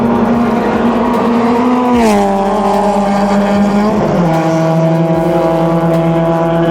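Race cars lap a packed track during endurance-race qualifying at Clark Speedway, one loud engine dropping pitch in two distinct shifts as it passes close by.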